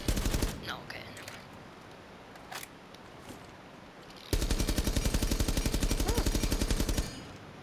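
Gunfire in Rainbow Six Siege: a few scattered single shots and brief bursts, then a sustained rapid automatic stream of close, loud shots lasting a few seconds before stopping.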